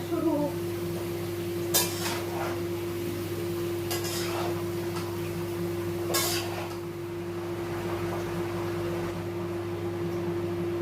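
Metal cookware clanks a few times, sharp and separate, at a home kitchen stove while cooking begins. A steady hum runs underneath the clanks.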